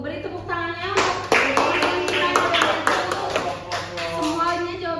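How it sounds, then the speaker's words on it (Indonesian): Children in a classroom clap in rhythmic unison, loud and close, as the teacher's voice and the children's voices rise over and around the applause. "Beri tepuk tangannya."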